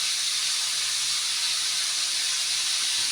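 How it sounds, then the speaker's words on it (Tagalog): Squash fries in a little cooking oil, giving a steady, dense sizzling hiss throughout, close and fairly loud with no talk. "Prito-prito na natin. Konti lang po ang nilagay kong mantika."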